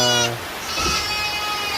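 Goats bleat inside their pen on a farm, a near and fairly loud wavering cry with a second shorter call following.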